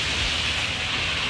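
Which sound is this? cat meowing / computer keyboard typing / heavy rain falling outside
heavy rain falling outside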